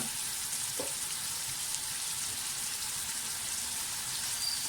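Mutton pieces frying (bhuna) in a pan give a steady, even sizzle that holds at the same level throughout, with no talking.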